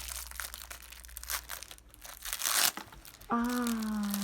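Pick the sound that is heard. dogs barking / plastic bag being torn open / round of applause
plastic bag being torn open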